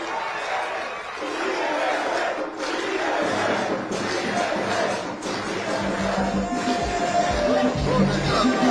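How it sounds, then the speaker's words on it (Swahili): Large crowd at a Yanga club signing event rising to cheer loudly for the GSM company boss, a dense roar of shouts and cheering sustained throughout, near and full. "Hebu naomba tusimame tupige shangwe kubwa tukimuomba bosi atusalimie."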